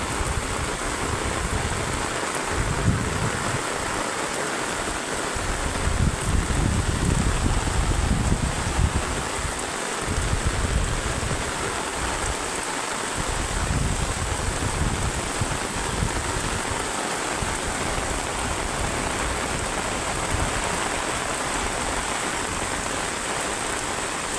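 Heavy rain pours steadily during flooding of the Muhuri River at Parshuram, Feni, a dense continuous hiss with gusty swells of wind noise on the microphone and no voices.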